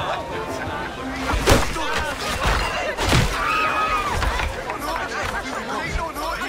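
Tavern crowd chatter in Assassin's Creed 4: a steady babble of many distant voices with occasional thuds and clatter, continuous and moderately loud throughout.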